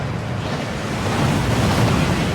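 A waterfall in the video game Hogwarts Legacy, a steady, loud, broad rushing roar of falling water that holds constant and builds slightly, with no other sounds over it.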